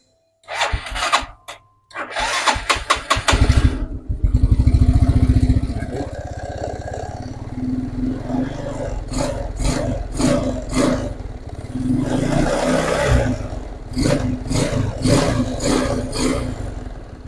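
A motorcycle with an added running-text LED brake light starts with a short cranking clatter, then idles and is revved several times, rising and falling, close by, with bursts of louder mechanical noise throughout.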